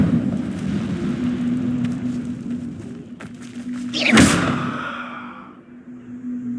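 An Incendio fire spell is cast in Hogwarts Legacy, a sudden whooshing burst near the middle that flares and fades over a low game hum with scattered softer thuds.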